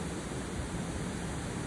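Rushing stream water near Kalu waterfall, swollen after continuous rain, forms a steady, dense roar that holds even and close for the whole moment with no pauses.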